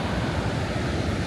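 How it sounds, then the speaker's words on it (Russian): Ocean surf at Essaouira rolls in as a steady, loud roar of breaking water and wind noise, with no distinct individual wave crashes and no voices. "И вот он океан."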